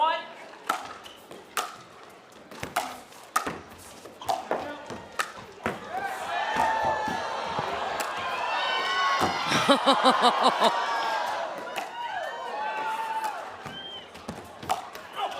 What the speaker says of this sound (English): Oohs and ahs from the crowd